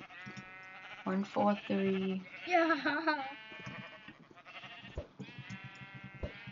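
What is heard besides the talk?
sheep bleating in the video game Minecraft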